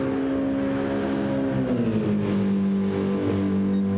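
Porsche and Mercedes AMG race cars in a DTM race drone loudly with a steady engine tone that slides down in pitch as they pass, close and continuous without talk.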